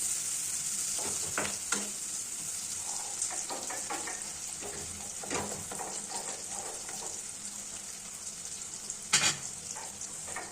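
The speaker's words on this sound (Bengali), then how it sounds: "কুচি করে কাটা পেঁয়াজ এবার আমরা তেলে দিয়ে দিচ্ছি। পেঁয়াজটা খুব ভালোভাবে ভাজতে থাকবো।" Chopped onions frying in oil, a soft steady sizzle with scattered spatula scrapes and stirring clinks, fairly quiet and close.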